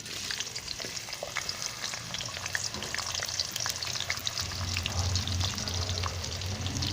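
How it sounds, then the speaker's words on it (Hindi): Onions sizzle and crackle steadily in hot oil, with soft stirring scrapes and no talking. "कुकिंग ऑयल मेरा गर्म हो चुका है, तो अब इसमें प्याज शामिल कर लेता हूँ"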